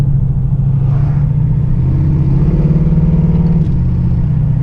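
A 1985 Chevrolet Monte Carlo with 355 horsepower and a shift kit accelerates hard as the wheels lose traction, its engine a loud, steady low rumble that holds close and continuous throughout.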